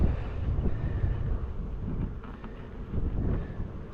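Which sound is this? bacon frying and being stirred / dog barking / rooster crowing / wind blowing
wind blowing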